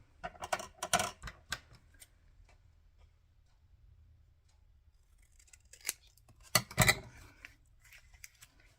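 Scissors snipping through a paper envelope in a papercraft project, brisk clusters of crisp close cuts at the start and again near the end, with a quiet pause between, no talking.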